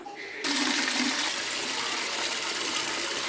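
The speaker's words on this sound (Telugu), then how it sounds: "మా అమ్మాయి అయితే ఇక కూలర్లో వాటర్ పోస్తుందండి" Water gushes steadily into a cooler, starting abruptly after a brief quieter moment and running loud and continuous to the end.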